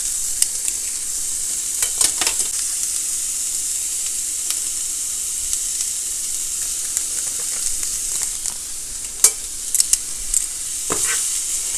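Seasoned chicken tossed in oil in a pan for keto chicken tacos, loud bright sizzling with intermittent scrapes and clacks of a utensil stirring, steady and close.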